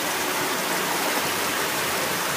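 River water rushes in a steady, dense flow toward a Manzanares water treatment plant intake, a continuous close-up churning wash with no pauses and no voices.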